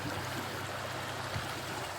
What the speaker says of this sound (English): This is just the tide or the current flowing